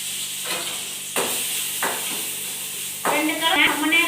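Coconut and tamarind fry in coconut oil with a soft, continuous sizzle. Four scraping stirs sweep through the pan at spaced intervals, the last one louder and busier.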